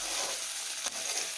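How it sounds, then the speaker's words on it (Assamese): Sidol chutney with onions frying in a pan gives a continuous loud sizzle, cut by one brief stirring scrape near the end. "এতিয়া আমি ভালকৈ ভাজি লওঁ।"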